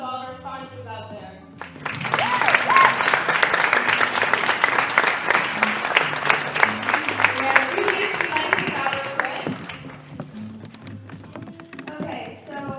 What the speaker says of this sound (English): We'd like to take a minute to give a round of applause to all of our sponsors out there